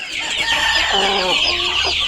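Chickens cluck loudly and continuously at close range on a Thai farm, several birds overlapping in a busy flock chorus.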